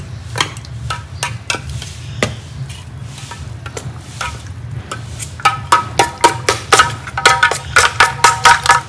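Sattu, roasted flour, being stirred in a frying pan: repeated close scraping and tapping strokes of a spoon against the pan over a low steady hum, quickening toward the end.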